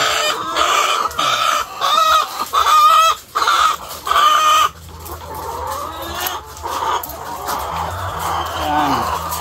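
Chickens cluck loudly and repeatedly up close in bursts, then a busier, softer chorus of clucking and farmyard bird calls continues.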